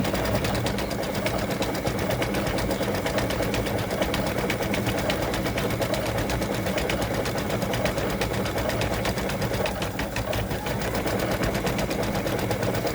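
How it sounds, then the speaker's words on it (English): An embroidery machine stitches the first layer of a freestanding lace gift tag, a steady, loud, continuous rapid needle clatter that runs unbroken from start to finish with no voices. "So it's starting the first layer of the stitching."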